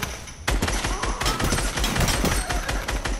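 Rapid gunfire in the Fortnite video game, a dense fusillade of sharp shots and bursts that starts abruptly and keeps going loud and continuous, with no talking over it.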